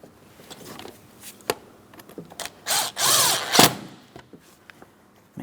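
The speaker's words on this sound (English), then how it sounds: "Tighten your 8mm headed clamp." A power tool drives an 8mm-headed clamp during a front right engine mount replacement on a 2008-2016 Chrysler Town & Country 3.8L, giving short ratcheting bursts and one longer loud whir amid clicks and handling noises.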